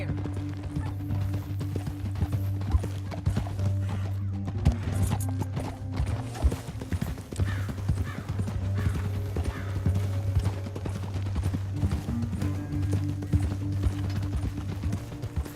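Horses gallop in Red Dead Redemption 2 with a steady drumming clip-clop of hooves and tack, continuous and close throughout, over a low droning background.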